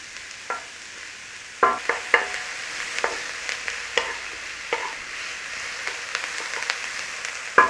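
Chickpea curry base cooking down in a pan, a steady low sizzle broken by sharp clicks and scrapes of a utensil stirring at irregular intervals.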